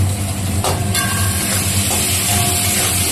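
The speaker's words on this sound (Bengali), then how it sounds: "সব দিয়ে ভালো করে ভেজে নিলাম।" Small mourala fish frying in a pan with green chillies, chilli powder and nearly boiled potatoes: a loud, steady, close sizzle that hisses without a break, with a couple of brief scraping bursts early on.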